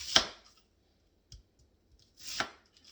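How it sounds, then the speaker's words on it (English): Knife chopping a half onion into wedges on a cutting board in a home kitchen: three crisp, close chops spaced about a second apart, with quiet pauses between and no talking. "So what I'm doing is I'm cutting this onion into"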